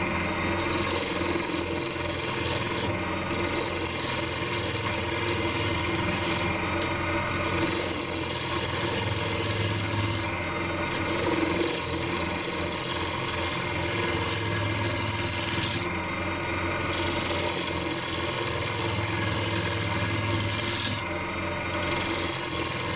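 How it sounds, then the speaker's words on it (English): A woodturning tool scrapes a spinning wooden bowl on a lathe in a steady, continuous rasping rub, with the grinding texture swelling and easing in regular passes over a constant motor hum. "keep this level at all times, horizontal, but tilt it right, more or less right over, so it's just the bottom edge scraping"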